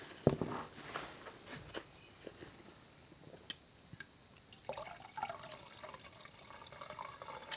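Pinot Noir 2011 Quintay Clava Coastal Reserve from Chile's Casablanca Valley pours into a glass with quiet splashing and gurgling, then a few soft clinks and drips, close and faint.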